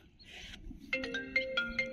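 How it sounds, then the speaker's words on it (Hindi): A mobile phone ringtone plays in an outdoor spot during net fishing, a bright repeating melodic tone that starts about midway and rises over low background noise, with no talk. "अब किसका फोन आ गया भाई, देखना पड़ेगा।"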